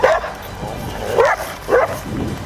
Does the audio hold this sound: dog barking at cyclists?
yes